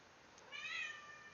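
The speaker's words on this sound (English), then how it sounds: "Oh man, you guys hear that cat?" A single cat's meow, faint and somewhat distant, a short rising-falling cry heard under a quiet background hum near a high-rise apartment with heat pumps.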